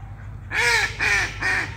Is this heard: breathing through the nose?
no